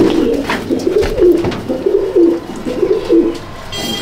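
Teddy pigeons in a loft coo in repeated low, throaty phrases, several birds close by with overlapping rolling calls and a few soft flutters, no talk.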